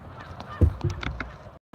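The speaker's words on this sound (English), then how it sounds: "Ever see geese come out of the woods? They are not happy that I'm here." Geese emerging from riverside woods honk in a short burst of loud, agitated calls, several overlapping honks close by, then abrupt quiet.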